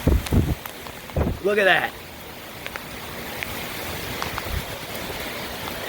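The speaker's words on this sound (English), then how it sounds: "It is definitely a tropical storm. See it? I mean, it is coming down in sheets." Heavy rain and gusting wind from Tropical Storm Cristobal on Dauphin Island, Alabama, a steady broad roar that carries on after a person speaks briefly at the start.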